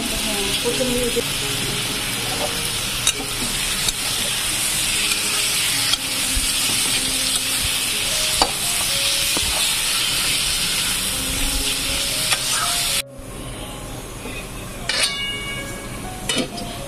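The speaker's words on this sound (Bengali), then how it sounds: "আলুটা কষানো হয়ে গেছে।" Potatoes sautéing in a pan produce a continuous close hiss and sizzle with occasional utensil clatter and scraping, and the frying cuts off abruptly near the end, leaving quieter clinks.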